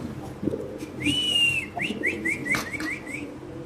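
A pigeon at a pigeon-breeding farm calls with a series of short, repeated whistling notes at close range. Low background noise is present and no one speaks.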